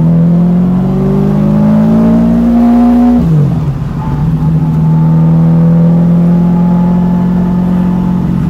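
A 447 cubic inch Windsor V8 in a Mustang on 91 octane pump gas, loud and close, its engine note climbing steadily in a rev, then dropping sharply before settling into a high, even drone.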